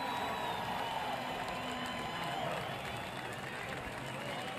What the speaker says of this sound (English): to a great round of applause for what he just endured.